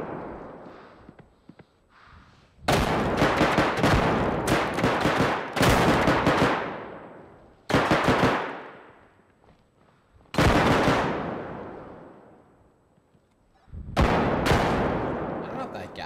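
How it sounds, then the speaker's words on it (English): Heavy gunfire in the Bodycam video game comes in several long, loud automatic bursts separated by short pauses, each burst trailing off into ringing decay. "It was shooting at me."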